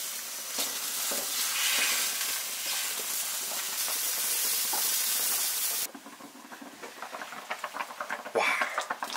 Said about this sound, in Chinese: 好了，水开了，我们现在把鱼放进去啊。